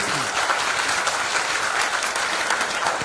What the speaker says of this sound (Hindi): एक बार जोरदार ताली होनी चाहिए इस प्रोडक्ट के लिए